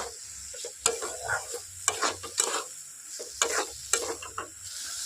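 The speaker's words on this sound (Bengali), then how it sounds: "এর মধ্যে আমি দিয়ে দেব কেটে রাখা পেঁয়াজগুলো এখন খুব ভালোভাবে পেঁয়াজগুলো মিশিয়ে নেব" Chopped onions stirred into a frying, well-cooked spice paste for onion curry, with repeated sharp spoon scrapes against the pan over a low, steady sizzle, close and moderately loud.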